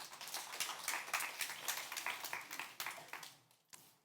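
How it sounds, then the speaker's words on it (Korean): An indoor church congregation gives a round of applause, a fairly soft burst of scattered hand claps that fades toward the end. "우리 박수 한번 쳐주세요."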